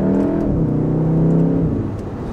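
A 2018 VW Golf R engine drones loudly from inside the car as it downshifts, the pitch dipping then climbing steadily under acceleration, with no talking.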